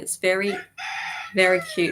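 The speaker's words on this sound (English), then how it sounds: "Oh, you probably heard that rooster there." A rooster crows loudly nearby in two long calls, with a person speaking briefly between them.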